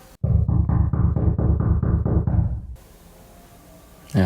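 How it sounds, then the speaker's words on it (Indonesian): Knocking on a door at night, a run of about nine steady, evenly spaced loud raps close by, followed by a quiet stretch and a brief rising noise at the end. "Tiba-tiba suara ketukan itu muncul lagi."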